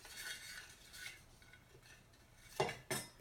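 A spoon stirs soup in a pot, a few quiet scraping strokes followed by two louder metallic clinks against the side near the end.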